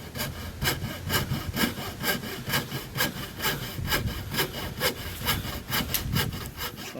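A hand saw cuts a relief cut in wood trim, steady rhythmic back-and-forth strokes of even tempo, close and clear with no talking.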